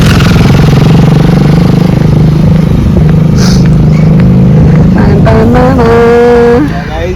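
A car engine runs loud and close with a steady low hum, then revs up near the end, its pitch rising in a smooth climb before dropping off.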